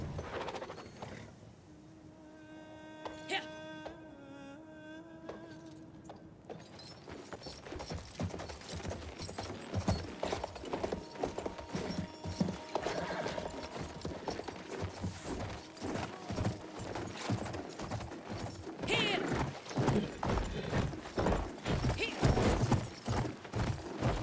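A horse gallops in the video game Battlefield 1. After a quiet, tonal opening, rapid hooves clip-clop continuously and grow louder, mixed with mechanical clatter and distant gunfire.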